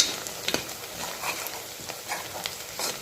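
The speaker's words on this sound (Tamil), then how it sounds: "வெங்காயம் நல்லா வதங்கிட்டுருக்கு" Onions sautéing in a pan for mutton curry, quiet sizzling broken by repeated spoon scrapes and clinks against the pan, close and without speech.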